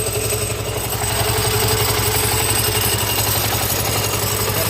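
A machine that makes a snack from rice runs steadily for the whole stretch, a loud, close mechanical hum and rattle like an idling engine, with no talking.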